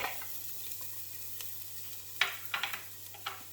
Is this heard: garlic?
yes